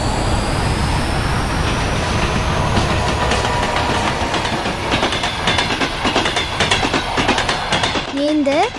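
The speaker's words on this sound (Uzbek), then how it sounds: "Endi bu mening eng sevimli poyezdim." A cartoon train runs on rails with a steady, loud rumble and quickening clickety-clack beats, and a brief chirpy whistle-like tone near the end.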